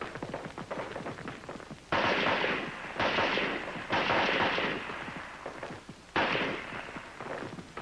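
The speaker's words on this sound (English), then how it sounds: "For your rapid fire zero, you fire 3 groups of 3 rounds each." Marines fire M-14 rifles during rapid fire zeroing in an old film soundtrack, with loud cracking shots that come in clustered bursts over constant background noise.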